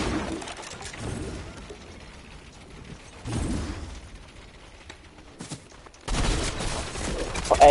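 Bursts of automatic gunfire from a weapon in Fortnite come in uneven, dense volleys, rising and falling through the clip against a busy game soundscape.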